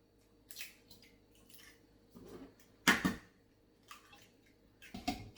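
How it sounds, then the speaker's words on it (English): Eggs cracked and dropped into a bowl for stuffed French toast, a few soft wet plops and taps spaced apart, with one louder splat mid-way, close and quiet. "now I'm gonna add some eggs."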